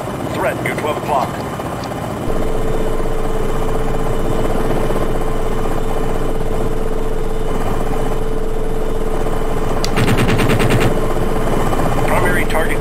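Helicopter cannon fire in the combat flight game Jane's Longbow Gold, a short rapid burst of shots near the end over a continuous rotor and engine hum, with a voice speaking.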